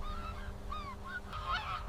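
Barnacle geese on open winter grassland give a few short, nasal honks that overlap in quick succession, moderately close, over a low background hum.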